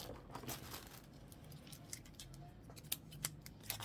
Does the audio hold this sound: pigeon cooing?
no